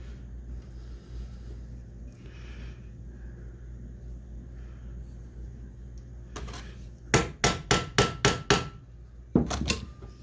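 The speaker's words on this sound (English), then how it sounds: "Let's tap this bit in there again." During disassembly of an 1851 Colt Navy revolver, a hammer taps a drill bit into place. About eight sharp metallic strikes come close together near the end, after a quiet stretch with low rumble.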